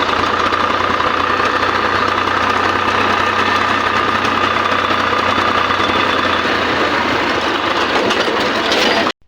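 A tractor engine runs loud and steady at a constant pace with a rough knocking drone throughout, cutting off suddenly at the very end.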